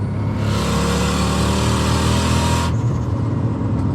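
A turbocharged 3UZ V8 in a Lexus GS accelerates at partial throttle, a loud, steady engine drone and rising whoosh heard from close by, then easing off abruptly near the end.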